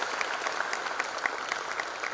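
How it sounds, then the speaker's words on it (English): An audience claps for the chief guest at a college freshers' induction, with a brief, lively burst of many hands and individual claps standing out close by. "Give a big applause to the illustrious alumnus as well as to the chief guest."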